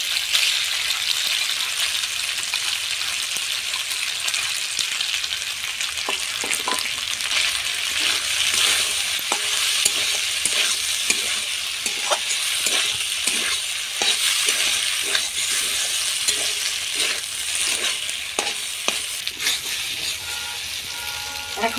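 Pasta with fried eggs stirred and frying in a pan, a continuous close sizzle with repeated scraping knocks of the utensil against the pan throughout.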